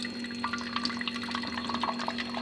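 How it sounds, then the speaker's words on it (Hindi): Hot water runs from a water dispenser in a steady, soft pour with faint trickling, heard up close and alone at low volume. "डिस्पेंसर से पानी ले आते हैं, गर्म पानी"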